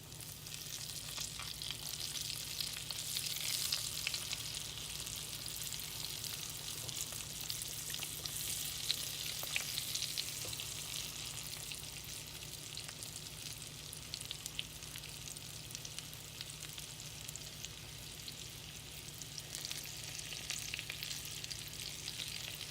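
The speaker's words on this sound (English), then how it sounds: "Now the oil's good and hot now, so be careful when you start dropping these in" Frozen okra frying in hot oil, a steady, faint hiss and crackle of sizzling that continues without pause and with no talk.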